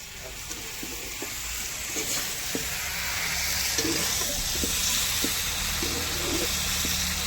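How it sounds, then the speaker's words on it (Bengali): Spicy dried fish (shutki) curry sizzling in a pan at an outdoor picnic, a constant close hiss of frying with periodic spatula knocks and scrapes against the pan, no speech. "প্রথমে এই তরকারিটা কষিয়ে নিচ্ছি বন্ধুরা, একদম ঝাল ঝাল করে।"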